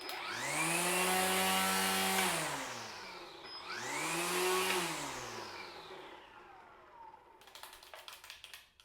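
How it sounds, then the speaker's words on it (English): A Skil PWRCore 40v cordless string trimmer runs at its fast speed setting, giving a loud, steady electric whine that rises, holds, then winds down twice in a row, followed by faint clicking and handling noise at the end. "It really feels like I'm using a gas string trimmer"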